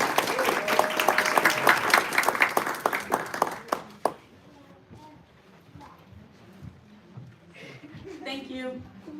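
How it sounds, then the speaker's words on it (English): An audience at a Women's Day event claps for honored women, a lively burst of many hands that fades out after about four seconds, followed by quieter room noise and someone speaking. "So, I just want to please give a round of applause to all the women out here."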